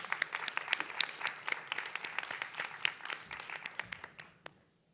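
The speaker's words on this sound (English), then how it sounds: "A round of applause." An audience at the opening ceremony of an annual conference for English teachers gives a brisk round of applause, many hands clapping close and lively for about four seconds before stopping abruptly.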